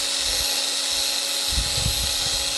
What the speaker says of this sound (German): Und dann macht man das einfach nur mit kleinen, schönen, niedlichen Akkuschrauber.